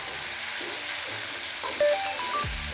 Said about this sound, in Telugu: ఇలా కలుపుకున్న తర్వాత ఇందులోకి కట్ చేసి పెట్టుకున్న టమోటా ముక్కలు యాడ్ చేసుకోవాలి.